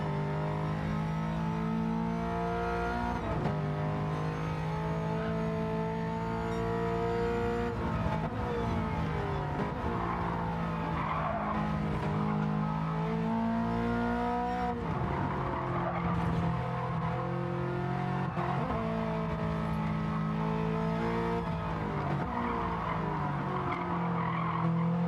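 Race cars roar through a racing video game event at Autopolis in the 450pp class, engines holding a loud steady drone with repeated pitch shifts through gear changes and tire skids across the whole stretch, with no talking.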